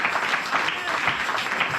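A church congregation applauding, a dense, steady patter of many hands clapping at once with voices mixed in.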